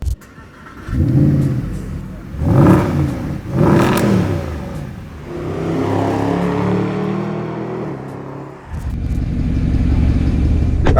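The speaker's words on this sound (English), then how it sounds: "here we go for a little cruise in one of my clients' SLS" A Mercedes SLS AMG Final Edition sets off with several loud revving bursts and gear changes, then settles into a steady, rising engine drone as it drives away, close and prominent throughout.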